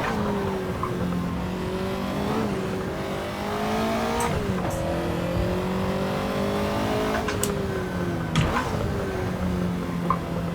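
A Ferrari 288 GTO engine drones steadily through a lap of the Nordschleife in the video game Assetto Corsa, with its pitch climbing and dropping through several gear changes, short tire squeals, and sharp clicks from time to time, close and continuous with no talking.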